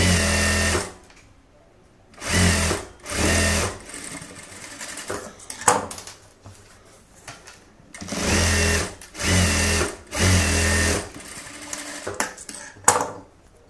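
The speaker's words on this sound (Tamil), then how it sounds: "இப்போ வந்து ஓக்கு பட்டி தச்சிடலாம்" A sewing machine stitches the hook strip of a blouse in several loud, close bursts of rapid mechanical whirring, separated by quiet pauses with faint handling clicks.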